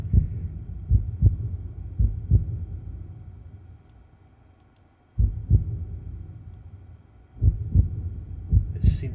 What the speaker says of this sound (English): It seems to stop and stutter every so often.